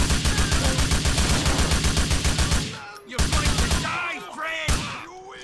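Gunfire in Grand Theft Auto IV: a rapid, loud automatic burst rattles evenly for a few seconds, stops, then a few more scattered shots follow amid groaning and other game sounds.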